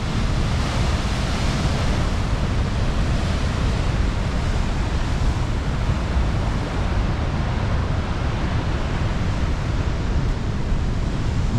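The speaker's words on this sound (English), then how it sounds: "Just watch these kind of wave lines go through." Ocean swells surge into a cove along an Australian coastline, producing a loud, unbroken roar of surf mixed with wind rumble at close range, with no voices.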